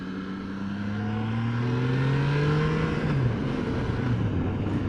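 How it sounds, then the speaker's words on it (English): A Triumph Tiger 660 motorcycle engine pulls steadily while riding through town, a continuous droning note that climbs in pitch as it accelerates, then shifts as it changes gear, with wind rush throughout. "That engine."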